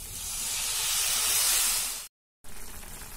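Okra frying in a pan with turmeric and salt for bendakaya pulusu gives a steady, fairly loud sizzling hiss that cuts out briefly near the end, then resumes.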